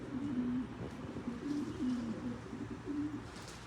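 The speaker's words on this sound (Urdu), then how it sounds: "آوازیں سن رہی ہیں آپ لوگ کبوتروں کی، پیجنس کی؟" Pigeons coo softly in repeated low, rolling calls, a gentle rhythmic burble at moderate distance with no talking.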